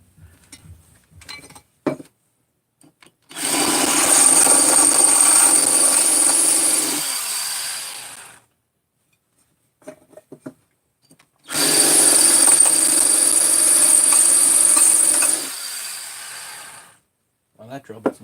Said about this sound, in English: that drill bit's not cutting